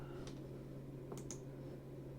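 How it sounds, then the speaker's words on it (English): A few sharp, quiet computer mouse clicks, one early and a quick pair later, over a low electrical hum. "I know the mouse click must sound extremely loud."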